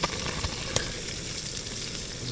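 A stick of butter melts in a double boiler over boiling water, giving a continuous soft sizzle and hiss with a couple of faint clicks, close and steady with no voices.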